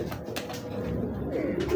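A small, round pigeon coos near at hand, soft throaty calls over light background noise.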